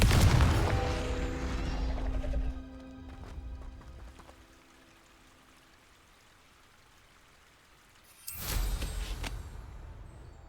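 Confringo fire spell in Hogwarts Legacy: a loud booming blast at the start that fades over a couple of seconds, then a second sharp burst near the end, with quiet ambience between.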